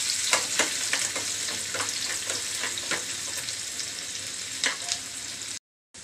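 Chopped onions and green chillies sizzle loudly in a pan, a dense continuous crackle broken by regular spatula scrapes and stirring clicks, close by, ending in a short silence.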